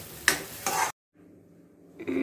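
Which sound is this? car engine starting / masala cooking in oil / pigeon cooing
masala cooking in oil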